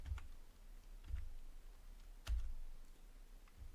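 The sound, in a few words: typing on a computer keyboard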